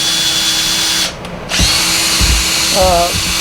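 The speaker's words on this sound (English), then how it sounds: "put it in the drill and run the drill through it" A spare welding tool tip chucked in an electric drill spins with a loud, steady whine, dropping out for a moment before starting up again, with people talking in a workshop where brake rotors are machined.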